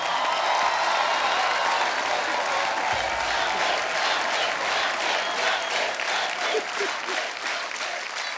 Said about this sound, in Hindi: रणबीर के लिए जोरदार तालियां।